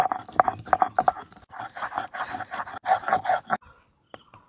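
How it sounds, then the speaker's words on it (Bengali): Cinnamon, cardamom and cloves ground with water on a sil stone, heard as rhythmic rasping strokes that grind back and forth in close succession, loud and near, then trail off into quiet. "4টে এলাচ আর 4টে লবঙ্গকে জল দিয়ে ভালো করে শিলের মাধ্যমে বেটে নেবো।"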